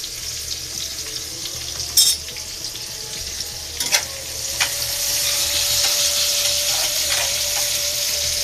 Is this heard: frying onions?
yes